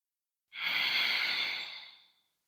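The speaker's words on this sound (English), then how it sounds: "Taking a few more breaths." One slow, soft exhale during yoga practice, kneeling with the hips on a block, heard close and alone as it swells and fades over about two seconds.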